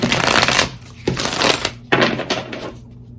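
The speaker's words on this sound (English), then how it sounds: "So I'm going to start shuffling." Tarot cards are shuffled close up in several rough bursts of riffling and slapping, each burst followed by a short pause, with the last one trailing off quietly.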